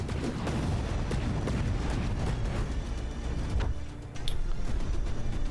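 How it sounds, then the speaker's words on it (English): A big explosion in the naval combat game From the Depths, heard as a sustained, rumbling barrage of booms and blasts, loud and dense, with a brief dip before another heavy surge. "Ooh, big explosion."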